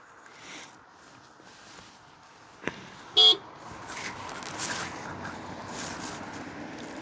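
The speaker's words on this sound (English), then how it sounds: "They like honked and waved." A passing car gives a short, clear toot of its horn partway through, over faint outdoor traffic and background hiss, with no talking.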